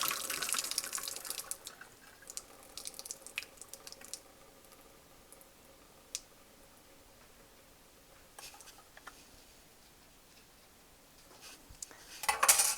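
Boiled pasta water is drained from a pot into a heat-proof glass container at a kitchen sink, with soft pouring, dripping and light clinks of metal and glass, quiet but clearer at the start and end.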